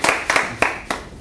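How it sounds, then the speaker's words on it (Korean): Four separate hand claps ring out in quick, uneven succession at a sales business seminar, crisp and close, with no voices over them. "박수."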